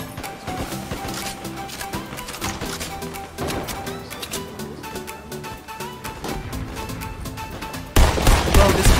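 Rapid gunfire bursts from a Fortnite Team Rumble match, dense overlapping shots with rattling automatic fire running throughout, loud and close, with a sharper louder stretch near the end.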